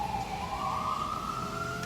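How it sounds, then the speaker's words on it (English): Ambulance sirens on an icy Texas street, a single wailing tone rising steadily, fairly loud over dull traffic rumble, with no one talking. "Can y'all hear the ambulances?"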